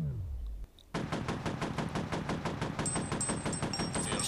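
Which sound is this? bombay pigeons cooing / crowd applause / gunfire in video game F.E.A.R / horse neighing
gunfire in video game F.E.A.R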